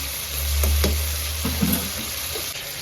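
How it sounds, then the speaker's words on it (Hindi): Garlic ginger paste sizzling in a hot pan, a steady close frying hiss with a low hum underneath and a few soft stirring knocks, no talking. "ये 3 चम्मच लहसुन अदरक डालेंगे"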